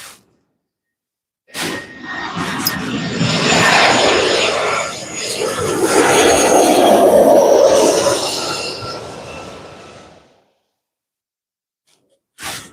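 An airliner arriving from XNA lands at LAX, its broad roaring rumble swelling up loud and close, dipping briefly, then surging again before cutting off, with a brief voice at the start.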